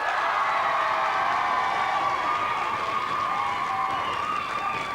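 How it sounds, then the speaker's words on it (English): Studio audience on the 1992 Blockbusters game show applauding a newly introduced contestant, a dense, even wash of clapping that holds steady at full level for the whole stretch with no speech over it. "another round of applause, please, for Paul Miller."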